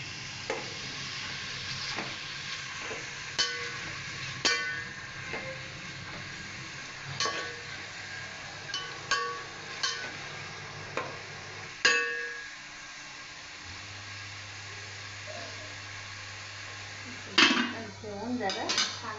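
Four onions and a tomato frying in a pan for chicken sukka masala, with a low steady sizzle under repeated clinks and scrapes of a spoon stirring against the pan.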